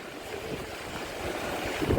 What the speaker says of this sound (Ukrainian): Ну вітер сильний, дуже сильний.